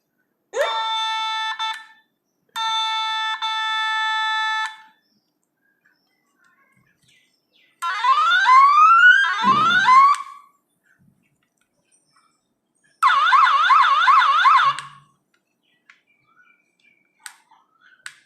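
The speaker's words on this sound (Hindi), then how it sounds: "तो आप हॉर्न के मोड भी चेंज कर सकते हैं" Several electronic siren tones ring out from a bicycle horn on a three-in-one cycle light: two steady beeping bursts, then a rising and falling wail, then a fast warbling trill, each loud and close with silent gaps and faint clicks between.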